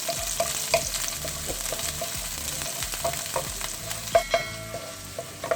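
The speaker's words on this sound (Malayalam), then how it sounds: "ഇതെല്ലാം കൂടെ നന്നായിട്ട് വഴറ്റിയെടുക്കാം." Small onions sauté in a pan for chicken perattu, a steady close sizzle with repeated scraping and stirring clicks from a utensil, no voices.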